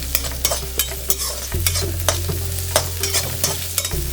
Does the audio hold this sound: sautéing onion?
yes